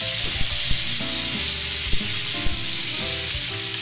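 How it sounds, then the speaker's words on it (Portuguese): Onion caramelizing in oil in a frying pan, a steady broadband sizzle throughout with a few soft clicks of stirring, close and fairly loud, no voices. "vai dar um toquinho mais de um óleo, só para a cebola... caramelizar"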